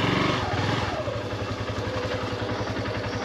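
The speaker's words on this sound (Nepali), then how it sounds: "अब हामी बाइक स्टार्ट गर्छौँ अनि जान्छौँ" A motorcycle engine starts and settles into a rapid, steady idle thump, loud and close, with mechanical clatter on a road near Kathmandu.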